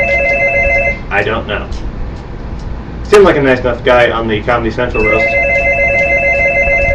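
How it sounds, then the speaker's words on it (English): A telephone rings indoors with steady electronic trills, stopping while someone talks, then ringing again at the close. "And that's the phone."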